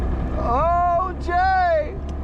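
A two-stroke engine on a 40-year-old project boat idles on the water with a steady low rumble, while people's excited voices rise over it.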